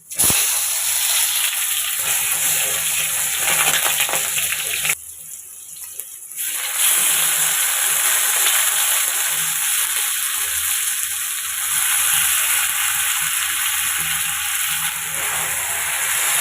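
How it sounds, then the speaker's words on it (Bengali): Tomatoes frying in hot oil in a wok on a home kitchen stove, a steady close sizzle and hiss that carries on almost throughout, briefly dropping and broken for a moment before resuming. "কড়াইতে তেল দিয়ে দিয়েছিলাম গরম হয়ে গিয়েছে এখন কয়েকটা টমেটো দিয়ে দেবো"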